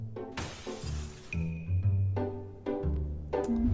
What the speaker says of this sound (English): security at a train station found a glass door was broken